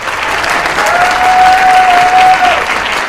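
Audience applause at a lecture hall talk, a steady, dense wash of many hands clapping for about three seconds, loud and close, with a faint sustained tone running through the middle.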